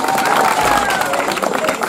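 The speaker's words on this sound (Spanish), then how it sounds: "Un aplauso para él." Audience applause and crowd noise at a youth gathering in Santa Catalina, a dense, steady wash of clapping mixed with cheering that stays loud and close throughout.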